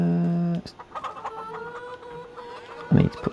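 Chickens cluck in the farming video game Farm Sim 25, a held tonal squawk at the start followed by scattered short clucks and a louder call near the end, over quiet game ambience.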